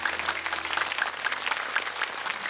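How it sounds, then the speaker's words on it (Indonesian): Steady applause from a studio audience after a group's Quran recitation performance at a televised tilawah competition, dense continuous clapping throughout with no talk. "Kita berikan aplaus dulu untuk Ariyadhah."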